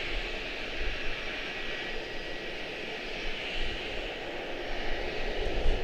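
An airplane departing Charlotte-Douglas International airport gives a steady, continuous broadband roar that swells slightly near the end, with no talk over it.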